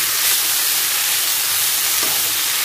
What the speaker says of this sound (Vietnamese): Rồi mình ướp xong rồi để vô chảo mình rang